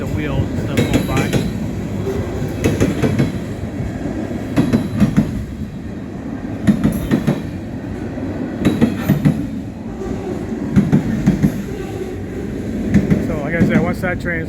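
A freight train rolls past at a railroad crossing, its wheels clacking in a steady rhythmic beat with a continuous rumbling drone, close and fairly loud throughout.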